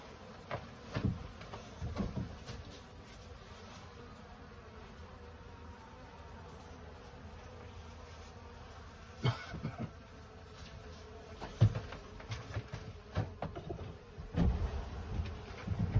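Honey bees buzz steadily around open Slovenian-style beehives while the hives are readied for winter, a soft continuous hum broken by occasional knocks and handling bumps of frames and wood.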